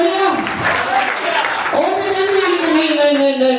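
A church congregation claps their hands together in a steady, crowded patter, mixed with a voice and tonal sounds like singing or music in the room.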